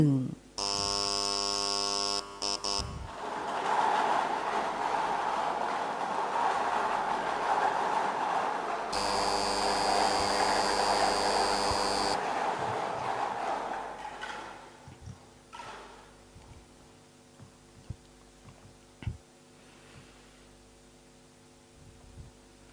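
A Thai lottery drawing machine runs for the last-three-digit draw, giving a loud, steady mechanical whirring rumble with a tonal hum. Around fifteen seconds in it drops to a quieter hum broken by a few sharp clicks.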